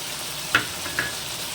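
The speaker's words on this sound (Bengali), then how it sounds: "এবার আমি দুটো কেটে রাখা টমেটো এর মধ্যে দিয়ে দেবো" Chicken curry with potatoes sizzling in a pan as chopped tomatoes go in, a constant frying hiss with a couple of brief clinks, close and without talk.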